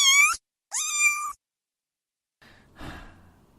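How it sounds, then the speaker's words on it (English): Two short, bright meows from a cat play one after the other as a cute effect on a podcast, followed by a soft breathy sigh. "Was that a cat noise?"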